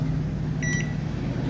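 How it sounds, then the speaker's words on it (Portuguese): A Midea microwave oven clicks on with a short, high beep over a steady low electrical hum, close and clear. "Vou ligar o micro-ondas."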